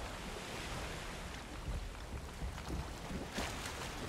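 Ocean waves wash steadily around a sailing boat crossing open sea in the Valheim video game, with a broad rushing surf and wind noise throughout, swelling in brief louder surges near the end.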